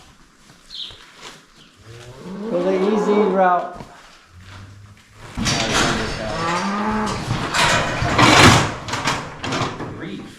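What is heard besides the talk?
cow mooing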